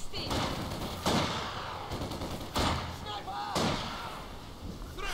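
Soldiers in Company of Heroes 2 fire their weapons in a snowy battle, sharp gunshot bursts and slam-like impacts recurring every second or so over a busy combat bed, with someone talking throughout.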